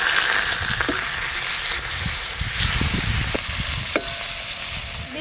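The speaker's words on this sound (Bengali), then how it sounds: "তাই তেল দিয়ে প্রথমে ইলিশ মাছের মাথাগুলো ভেজে নেব।" Hilsa fish heads fry in hot oil, giving a steady, close crackling sizzle with occasional sharper pops, continuous and fairly loud with no talk.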